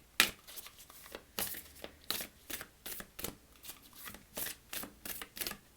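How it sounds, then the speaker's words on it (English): Starseed Oracle cards being shuffled to pull one, a run of crisp riffling and slapping bursts in an uneven rhythm, close and fairly quiet. "let's pull a card from the Starseed Oracle"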